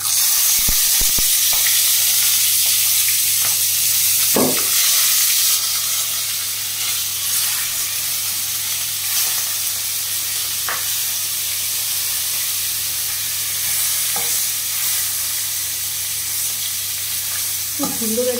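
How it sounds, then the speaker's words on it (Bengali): Tiger prawns fry in hot mustard oil with whole garam masala, a loud continuous sizzle and hiss running throughout, broken by a few sharp clinks and stirring scrapes of a utensil, with no voice over it. "মাছটাকে একটু ভেজে নেব।"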